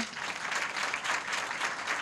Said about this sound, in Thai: ปรบมือให้ท่านด้วยนะ คะ